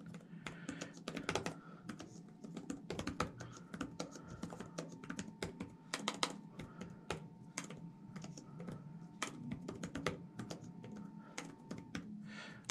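Continuous rapid typing on a computer keyboard, dense irregular clicks with occasional louder key strikes, close up and steady for the whole stretch.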